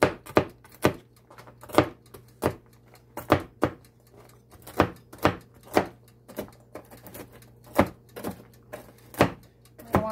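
Walnuts being chopped with a knife on a board, a steady series of sharp close knocks at irregular intervals, some in quick pairs, over a low hum, with no talk.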